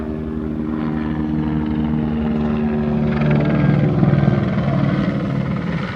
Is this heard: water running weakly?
no